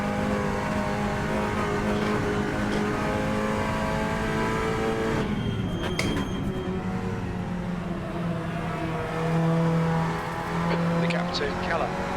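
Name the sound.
race car engine revving in Assetto Corsa video game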